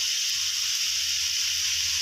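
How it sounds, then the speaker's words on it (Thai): Fish sauce hits a hot wok of stir-fried chicken with onion flowers, producing a steady, close sizzle and hiss with no talking over it. "หยอดน้ำปลารอบๆกระทะนะครับ"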